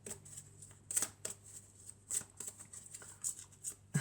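Tarot cards being shuffled and drawn, with soft, close papery flicks and snaps arriving in irregular bursts against a quiet background.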